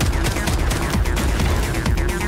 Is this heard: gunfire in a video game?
yes